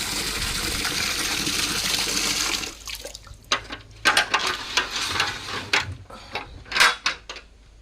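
Water is poured into a trough for cattle just brought back from the field, starting as a steady loud gush, then breaking into irregular splashes and sloshes nearby.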